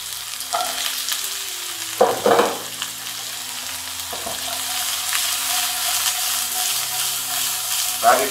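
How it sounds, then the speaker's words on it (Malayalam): Radish being sautéed with onions in a pan for a vegetable stir fry, a soft continuous sizzle with several clattering stirs and scrapes spaced through it, fairly close and moderately quiet. "ഉള്ളി ഏകദേശം ഒന്ന് കളർ മാറി വരുമ്പോൾ നമുക്കതിലോട്ട് റാഡിഷും കൂടി ഇട്ട് കൊടുക്കാം."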